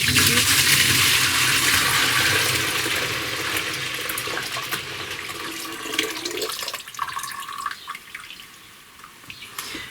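Whey is poured into fresh goat milk, a continuous loud splashing pour that gradually thins to trickles and drips toward the end, close by with no talking.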